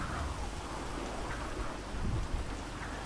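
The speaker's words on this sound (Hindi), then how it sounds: "बिजली कड़की, बिजली कड़क के तो मस्त आवाज़ दिया उसने" A thunder crack rumbles within a steady downpour of rain in the video game GTA 5, the low boom swelling briefly over the continuous hiss of falling water.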